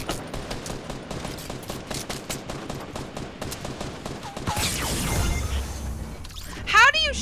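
Rapid gunfire in the Fortnite video game, a dense stream of shots over the first four seconds, then swooshing and shattering effects, with a voice talking over the action.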